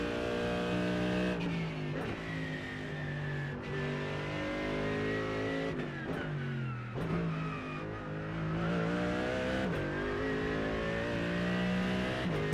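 A Mercedes race car in the sim game iRacing revs hard and steadily, its engine note climbing and dipping through gear changes over about twelve seconds, loud and close with no voices.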